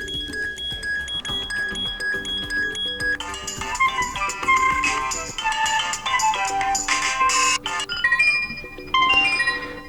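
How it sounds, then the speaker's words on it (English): A LEMFO LEM5 smartwatch plays a ringtone: bright, chiming electronic tones in a tinkling melodic pattern, the first notes sparse and then denser bursts of bell-like sounds, small and clear with no talking. "here we have list of ringtones we can use on our watch"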